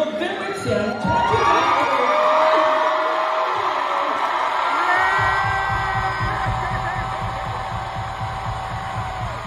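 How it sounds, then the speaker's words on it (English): Crowd cheering at a Wale Day proclamation ceremony in Washington, DC, a loud, sustained roar of many voices with whoops that holds steady for the whole stretch and eases off slightly toward the end. "if you couldn't hear it over all the cheers of the crowd"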